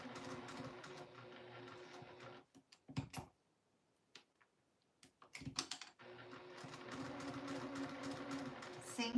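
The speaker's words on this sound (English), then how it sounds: "this is a very tiny piece of fabric to be sewing, so go slow and don't let your fabric get sucked down into your machine teeth" A sewing machine stitches a very tiny piece of fabric in steady whirring runs, stopping for a couple of seconds mid-way, with a few clicks from the needle being set and pivoted before the stitching resumes.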